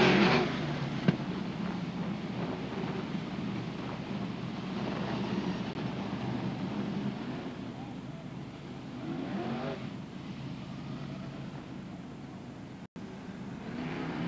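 Sprint car engines at Archerfield Speedway, heard as a steady distant rumble as the field forms up for a B-Main race, with brief revving rising and falling over crowd noise.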